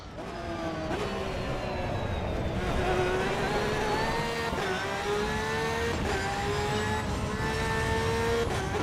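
A Formula One race car in Assetto Corsa EVO at the Nürburgring, its high-pitched engine note repeatedly rising and dropping through gear shifts, loud and steady throughout the clip.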